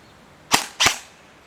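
Two sharp airsoft shots from an old KWA gun on semi-auto crack close together, about a quarter second apart, loud and isolated against a quiet background.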